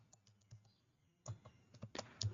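Someone types on a computer keyboard, with faint, scattered key clicks that come in short bursts and pauses, close and quiet, with no voice over them.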